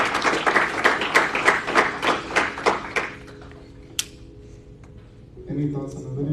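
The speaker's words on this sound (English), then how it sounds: "So I want you to clap it up for yourselves" Audience at a breakout session in Anaheim, California, clapping loudly for about three seconds in a rhythmic burst, then fading into room quiet with a few stray claps and a voice starting near the end.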